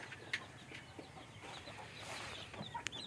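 Village poultry-farm chickens give a few faint, short clucks in quiet surroundings, heard from a little distance over a low background hiss.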